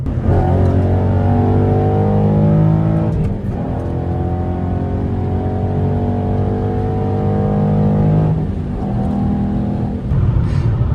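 A modified 2012 Ford Mustang GT/CS 5.0 V8 roars steadily as it accelerates, deep harmonic tones climbing and holding loud, with brief dips around gear changes.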